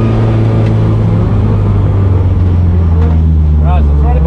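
A Nissan S13 with an SR20DET engine runs loud and close with a steady, heavy drone while its throttle body is tested at a drift day, as a voice talks over it.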